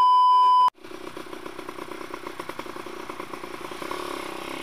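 A Yamaha F1ZR motorcycle runs with no silencer baffle in its exhaust, giving a raw, crackling idle with blips of revving that follows a short steady electronic beep.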